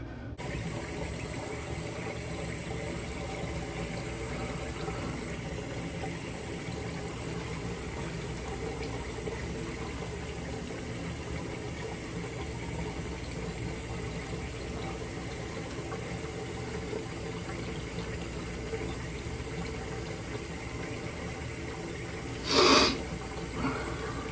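Hot water runs steadily from a tap into a shaving bowl, a constant close hiss with a brief clatter near the end.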